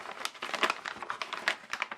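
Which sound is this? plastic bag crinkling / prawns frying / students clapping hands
plastic bag crinkling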